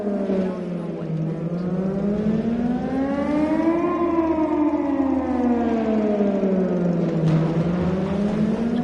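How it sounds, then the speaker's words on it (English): A wailing civil-defense siren in the game Titan Chaser rises and falls in long sweeping cycles, steady and loud and heard alone with no talk. "I heard this siren from my apartment in Bright City every once in a while."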